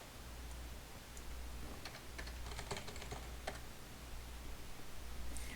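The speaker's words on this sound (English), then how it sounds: "I'll just type in some gibberish" Rapid bursts of gibberish typed on a computer keyboard during a coding session, light clicky keystrokes coming in uneven clusters over a soft steady background hum.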